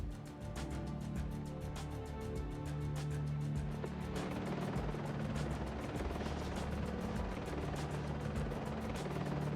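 A helicopter's rotor thumps steadily in the PS2 shooter Cold Winter, a fast rhythmic chop under continuous game noise and sporadic sharp impacts.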